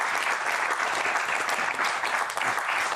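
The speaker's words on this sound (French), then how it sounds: "Applaudissements pour elle." A studio audience at a French television talk show breaks into steady, full applause, a thick continuous patter of clapping that stays loud and even throughout with no voices on top.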